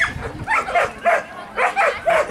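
A dog barks five or six times in quick, uneven bursts, close and loud.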